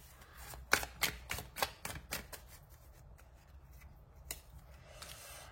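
Tarot cards are drawn and handled close up, with a quick series of crisp slaps, slides and rustles at the start and a few sparser, softer card sounds after.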